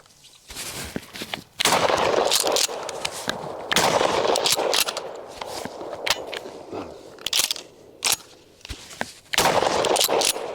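Mossberg 590A1 pump shotgun firing buckshot, heavy booming blasts in an uneven volley of about half a dozen shots with brief pauses and pump-action clacks between, loud and close outdoors.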